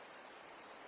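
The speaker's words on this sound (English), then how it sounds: "grasshopper." A grasshopper chirps in a high, continuous shrill trill with no gaps, at a soft, even level.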